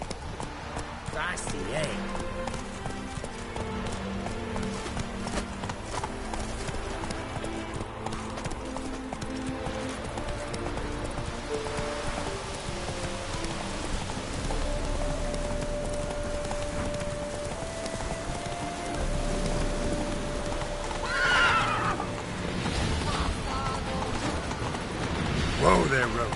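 Roach the horse in The Witcher 3 sends up a steady clip-clop of hooves for the whole stretch, with a faint whinny partway through, under continuous game music and a voice talking.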